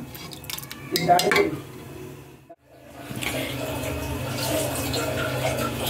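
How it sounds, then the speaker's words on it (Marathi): Water is poured into a cooking pot of boiled peas for misal. A few metallic clinks come first, then a short pause, then a steady, moderately loud rushing pour that keeps going to the end. "आपण वाटाणे ऍड करून घेऊया आणि मस्त पाणी टाकून घेऊया यामध्ये"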